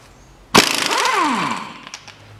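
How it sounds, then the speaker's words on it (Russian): Pneumatic impact wrench loosening a nut on a 2005 Peugeot 407 1.8 during front lower ball joint replacement, a sudden loud hammering burst that rattles for about a second and a half and then winds down, heard close. "Ну и попробую пистолет справиться с гайкой."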